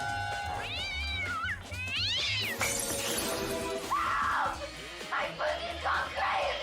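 An angry cat yowls in several long, rising and falling meows, loud and close, mixed with a sharp crash partway through and voices talking underneath.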